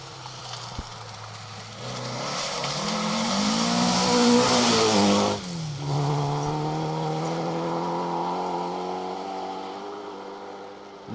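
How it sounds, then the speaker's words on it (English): A Vauxhall Chevette rally car drives sideways through a Scottish Borders forest stage, its engine revving loud and rising and then easing back, holding a steady, prominent drone throughout. "Vauxhall Chevette sideways in a forest here in the Scottish borders."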